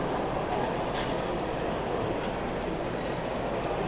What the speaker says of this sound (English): let's just catch this loco movement